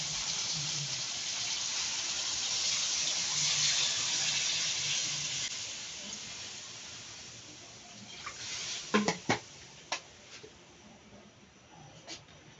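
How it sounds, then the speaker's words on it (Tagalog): A little water is poured into a pot of cooking pinakbet, a broad hissing rush for several seconds that eases off, followed by a few sharp clinks of utensils against the pot. "Lagyan natin ng kunting tubig"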